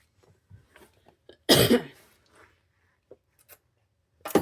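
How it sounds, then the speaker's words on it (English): A single sharp cough bursts out amid quiet rustling and small handling noises, with another cough-like burst at the very end. "I have been fine without a cough until now"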